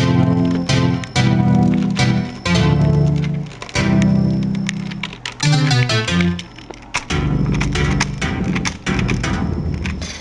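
A virtual keyboard plays in music production software, driven from a computer keyboard. The tones are loud and melodic, coming in quick, uneven runs of notes and short chords, with brief pauses between phrases.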